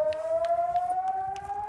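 Air raid sirens wail during a Hamas attack on Israel, a loud steady tone that rises slightly in pitch, with faint rhythmic background noise beneath it.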